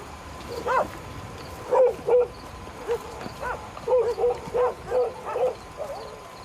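A military guard dog on patrol in Afghanistan gives a series of about ten sharp, close barks and yips in an irregular rhythm over steady outdoor background noise.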